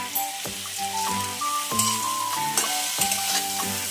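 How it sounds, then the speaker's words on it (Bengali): Bottle gourd, prawns and jackfruit seeds are stirred in a frying pan, giving steady sizzling with repeated scraping strokes, all under background music. "এবার একটু নেড়ে নেব।"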